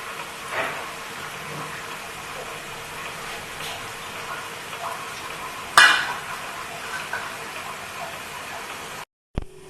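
Pakoras deep-frying in hot oil as they are turned, a steady close hiss with a sharp clatter near the middle and a brief knock at the end.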